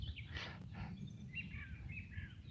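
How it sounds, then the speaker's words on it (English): Birds chirp faintly beside a carp fishing lake, a few short high calls and twittering phrases over a low rumbling outdoor background. "Listen to the birds chirping."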